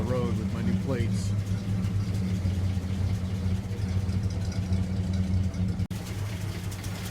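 A 1947 GMC truck engine idles steadily nearby with a low, even rumble and mechanical hum throughout, with a person's voice briefly heard at the start.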